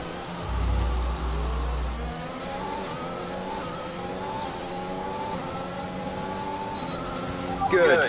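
An F1 car engine revs in the F1 2021 racing game, whining and rising steadily through the gears during an overtake, with a voice speaking over it.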